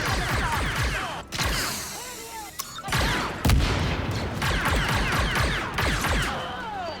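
Blaster pistol fire from the video game Star Wars Outlaws, a rapid string of sharp energy shots loud and close over a busy layer of combat effects, with brief gaps between bursts.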